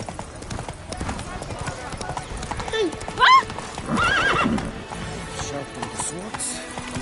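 Roach, the horse from The Witcher, clip-clops on hooves under spoken dialogue, then lets out a sharp whinny and a longer, shaky neigh, close and clear over a busy background.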